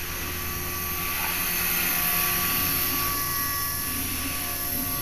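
Rebuilt HK 450 RC helicopter flying after a crash, a steady high-pitched motor whine and rotor buzz holding constant throughout, loud and fairly close with no voices.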